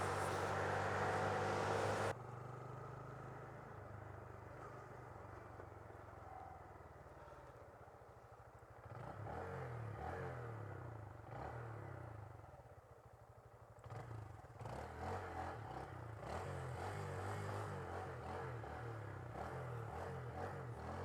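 A Honda Grom MSX 125 motorcycle filtering through commuter traffic, its small engine droning steadily with rising and falling revs, wind rush and passing vehicles around it, no talking.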